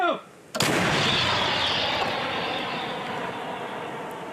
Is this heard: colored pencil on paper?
no